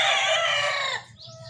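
A gamefowl rooster of a sweater-cross breed crows loudly and close for about a second, then gives a few softer clucks as the sound drops away.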